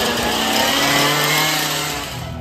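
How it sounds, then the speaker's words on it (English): A chainsaw running at a Halloween scream park event, a steady buzzing engine drone held throughout, moderately loud with a slight rise and fall in pitch. "I can hear a chainsaw."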